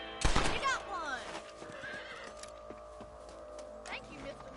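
A horse in the Red Dead Redemption video game gives a loud, close whinny that opens with a sharp burst and trails off, followed by soft hoof clip-clops beneath a low background of game sound.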